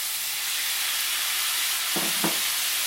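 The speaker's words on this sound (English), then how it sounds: "Couple tablespoon of wine, cooking wine, and you put the chicken in it" Chicken sizzles in a hot pan with a splash of cooking wine, a steady bright frying hiss throughout, with two short louder bursts near the end as the pieces are stirred or shifted.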